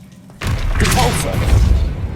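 Repulsor force spell blast from the Hogwarts Legacy video game, a sudden loud boom followed by a sustained rumbling surge with whooshing texture, close and heavy.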